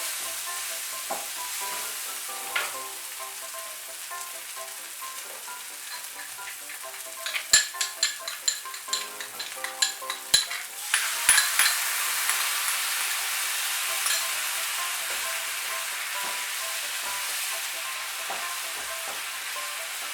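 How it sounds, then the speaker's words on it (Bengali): Continuous sizzle of tomato frying, with a burst of clinking spoon-against-pan stirring in the middle as yogurt is mixed in, then the steady hiss carries on alone. "টক দইটা মিশিয়ে নেব টমেটোর সঙ্গে।"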